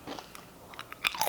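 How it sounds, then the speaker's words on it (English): Crunchy chips are bitten into close to the mic, giving a few sharp crisp snaps and crackles over about a second, with quiet gaps between bites. "I want to get a good crunch in there."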